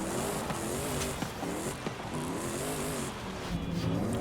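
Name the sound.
Power Stroke diesel-swapped Mustang revving, Forza Horizon 5 video game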